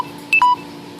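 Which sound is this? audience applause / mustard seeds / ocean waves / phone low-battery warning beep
phone low-battery warning beep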